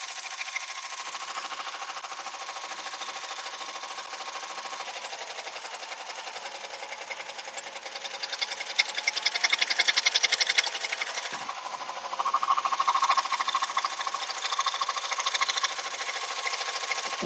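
An embroidery sewing machine stitches with a magnetic hoop holding the fabric, a fast steady mechanical whir with rapid needle clatter that grows louder and busier midway, close up with no talking.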